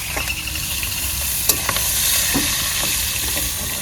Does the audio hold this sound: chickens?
no